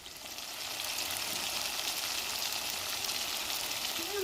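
Onion, tomato, green chili and cleaned dried fish sautéing in a pan, a steady soft sizzle and crackle that holds evenly from start to finish, no voices.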